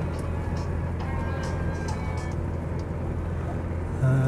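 BMW 635CSi with full leather trim, driving and picking up speed: a steady low engine drone with road and wind rumble, fairly loud and continuous, rising slightly at the very end.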